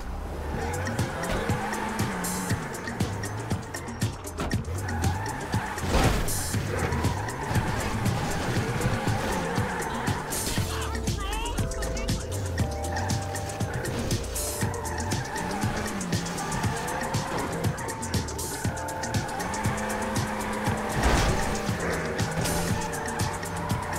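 Car engine roaring and tires skidding in the video game GTA V, a continuous loud drive with repeated squeals and revving, and a voice briefly heard under it.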